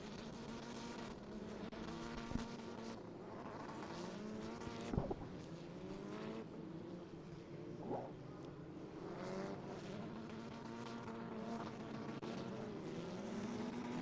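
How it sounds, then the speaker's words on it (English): Honda Civic Type R race cars with 2.0-liter turbo engines circling a track, a continuous layered engine drone from several cars with rising and falling pitch, heard at a distance and fairly faint. "Cars again making their way around."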